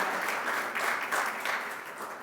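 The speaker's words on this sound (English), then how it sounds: "give him a round of applause" An audience applauding a presenter at a SUNY Downstate anniversary event, a short burst of moderately quiet, even clapping from a crowd.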